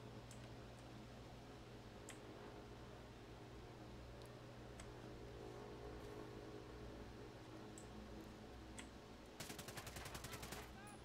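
Gunfire in Ghost Recon Breakpoint comes as scattered single shots early on, then a fast automatic burst near the end, all at a moderate distance beneath steady background noise.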